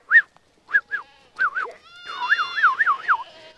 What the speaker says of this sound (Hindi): अपनी भेड़ बकरियों को लेके ये अभी जा रहे हैं चराने के लिए।